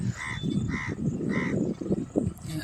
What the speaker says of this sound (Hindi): कौवा की आवाज़ है, काँव काँव करते रहता है काला कौवा।